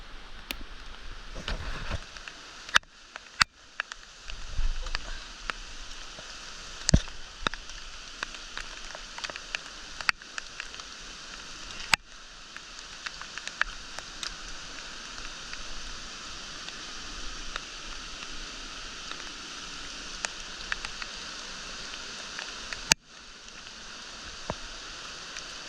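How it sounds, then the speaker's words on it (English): Heavy, at times torrential rain pours steadily on a jungle hiking trail in Colombia, a dense hiss with scattered louder drops and knocks, close and continuous throughout, with no talking. "3 hours in the rain. It got torrential at points."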